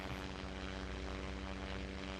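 Seaplane in Simple Planes VR, a steady droning propeller engine roar held at constant loudness throughout as the craft works up speed on the water, with no talk.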